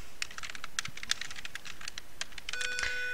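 Rapid, steady clicking of keys on a computer keyboard, close and clear, with a faint electronic tone near the end.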